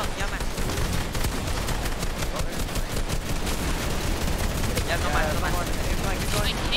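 Rapid gunfire bursts from an online battle royale match in a DreamHack Cash Cup tournament, loud and continuous throughout, with players talking excitedly over the shooting.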